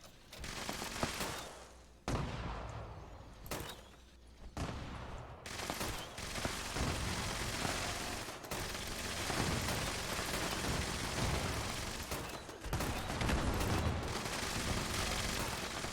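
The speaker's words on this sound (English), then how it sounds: "Lobbing grenades from a two-shot grenade launcher down all the paths." Grenades from a two-shot grenade launcher burst loudly and almost continuously in the video game Fallout 76, a dense barrage of booms and cracks with brief lulls near the start.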